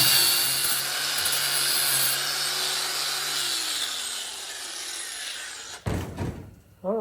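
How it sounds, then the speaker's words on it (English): A grinder takes a spot weld off sheet metal on a Navy Jeep CJ5 during rust repair, giving a sustained loud whine that drops in pitch and winds down, followed by brief clatter and handling. "I'm just going to grind that a little bit more, get that other spot weld off"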